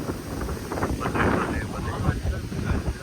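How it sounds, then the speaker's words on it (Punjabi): Steady wind blowing across open farm fields under a cloudy sky, a continuous rushing buffet with microphone wind noise, close and fairly loud throughout without a break, and no voices. "ਲਗਾਤਾਰ ਅੱਧਾ ਘੰਟਾ ਹੋ ਗਿਆ ਹਵਾ ਚੱਲਦੀ ਨੂੰ"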